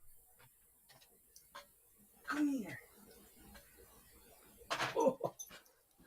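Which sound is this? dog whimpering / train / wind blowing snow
dog whimpering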